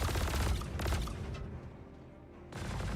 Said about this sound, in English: someone's just shooting up in the air